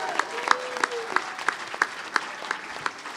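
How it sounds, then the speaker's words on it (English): Live audience at a San Francisco comedy show applauding, a steady wash of clapping with sharp individual claps standing out in a regular rhythm, moderately loud and without voices on top. "This is how you get the ideal applause break"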